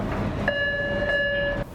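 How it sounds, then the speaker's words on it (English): An LA Metro train at rush hour gives a steady horn tone lasting just over a second, laid over a continuous rumble of rail noise, loud and close; nobody speaks. "It's rush hour on the LA Metro."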